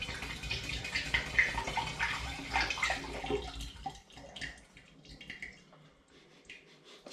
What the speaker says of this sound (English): I'm going to begin by putting 2 litres of the mixed fruit juice into the demijohn